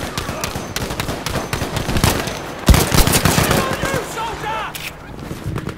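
Close, dense gunfire from Battlefield V multiplayer combat, with rapid bursts and sharp reports layered over one another, a heavy blast near the middle, and voices talking throughout.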